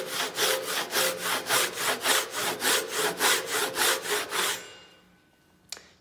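A handsaw rips through wood on a tenon cheek in about fifteen even, rhythmic rasping strokes, close and steady, then stops, followed by a brief sharp tap.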